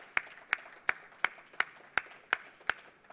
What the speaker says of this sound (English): this calls in for a huge round of applause.